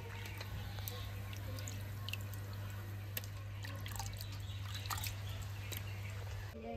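Water dripping and trickling as washed fish pieces are lifted from a bowl of water, giving faint scattered drips and splashes over a steady low hum.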